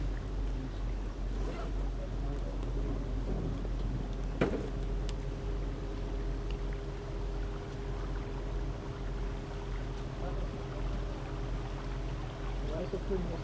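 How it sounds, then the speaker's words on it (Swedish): A boat passes on Hjälmare canal, a low engine drone and water wash running steadily under faint ambient noise with a brief knock partway through, and people talk quietly nearby. "nu möter vi en båt"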